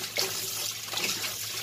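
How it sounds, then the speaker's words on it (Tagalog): Raw chicken being washed under running tap water in a kitchen sink, a steady close splash and gush of water with no voices. "Hugasan lang natin maigi yan."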